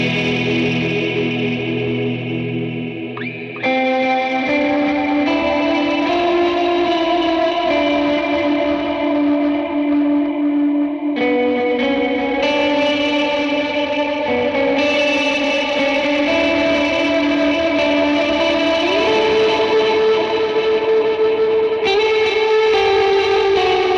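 Electric guitar volume swells played through a board with dual Tonex One pedals, sustained chords blooming in with chorus, distortion and reverb, loud and continuous with slowly shifting notes and no talking.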